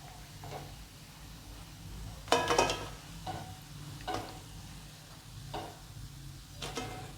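Onion bhaji sizzling in oil in a small kadhai over a low flame, a soft continuous fry with a handful of scraping stirs and clinks, one louder burst near the middle.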